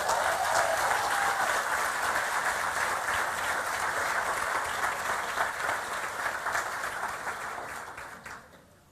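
An audience at a lecture on emotion management in London breaks into sustained applause, a dense crowd of clapping hands that holds steady for several seconds and then tapers off toward the end.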